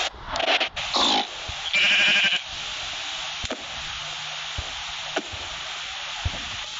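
Game-style pig oinks and grunts from Minecraft-style skyblock pigs, a few short bursts close up, over a steady background hum.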